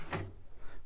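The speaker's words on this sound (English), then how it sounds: "Now, will it eject? It will eject." An 80s Symphonic CD player's disc tray ejecting, a single brief mechanical clunk followed by a faint, slightly squeaky motor whir.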